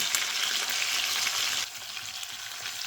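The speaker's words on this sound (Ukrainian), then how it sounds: "Смажимо з двох сторін золотавого кольору." Chicken meat rolls sizzle and spit steadily in a hot pan, a dense crackling hiss that drops somewhat quieter partway through.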